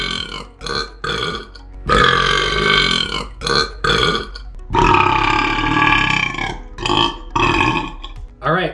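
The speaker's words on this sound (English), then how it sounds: "start getting some more burps" Long, loud, drawn-out burps in a burping contest, several stretching over two seconds, alternate with short bursts of talking between them.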